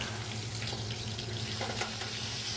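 Sausage for a Cajun duck cassoulet sizzles and fries steadily in a hot pan, a continuous close crackle with a faint stir partway through and no talking.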